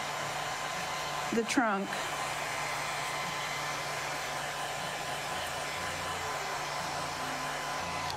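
A hair dryer blows with a constant whooshing hum throughout, and a voice briefly speaks early on.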